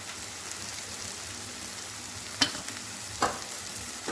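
Masala of garam masala, chili and turmeric being stirred in a pan for stuffed bitter gourd, a faint steady sizzle with a couple of louder scraping stir strokes.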